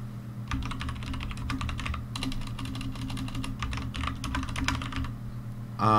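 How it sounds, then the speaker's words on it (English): Rapid bursts of clicky keystrokes on a computer keyboard over a low steady hum, with brief pauses between runs of typing, ending in a sharp louder noise. "I'll be doing some typing, and I don't want to bother you guys too much with it"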